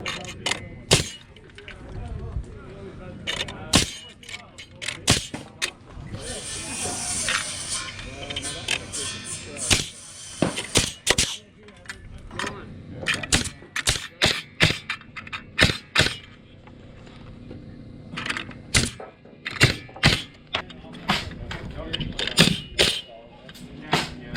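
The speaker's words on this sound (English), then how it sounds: "And I'll work my way down the wall doing that before I even start nailing my tops and bottoms into the plates." Nails driven through wall framing studs into the top and bottom plates, a long run of sharp, loud bangs in irregular clusters, close by, with stretches of speech between the strikes.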